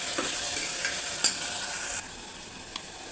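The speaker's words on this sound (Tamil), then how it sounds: "தக்காளி நல்லா வதங்கட்டும்" Tomatoes with a pinch of salt sautéing in a pan for tomato rice, a steady broadband sizzle with a few soft stirring clinks and scrapes, close and alone without talk.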